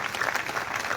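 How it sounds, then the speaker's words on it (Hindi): Students at a convocation ceremony at Chaudhary Ishwar Singh Kanya Mahavidyalaya in Dhand Dadwana clap together in a dense, continuous burst of applause that fills the hall for a brief moment. "ये जो बच्चे हाथ पे हाथ धरे बैठे हैं ताली बजाएं प्लीज"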